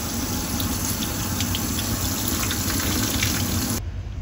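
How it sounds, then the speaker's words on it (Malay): Tap water runs steadily into a sink to rinse dried anchovies, a close, continuous gushing splash that cuts off abruptly near the end, with no voices. "Dan lalukan air saja, nak bersihkan sikit."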